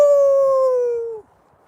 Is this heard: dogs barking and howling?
yes